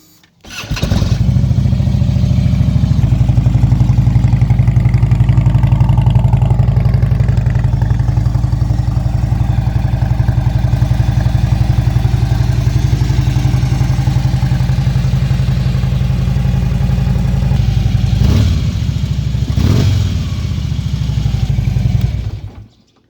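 A stock Harley-Davidson Road King motorcycle engine starts and runs loudly with a deep, rumbling idle for about twenty seconds, briefly blipped near the end before cutting off.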